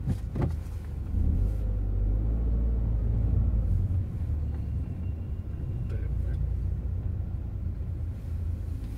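A Peugeot 208 GT Turbo rolls up to park at the 2016 São Paulo motor show, its engine a low steady rumble close by, with a brief louder knock at the start and faint background noise.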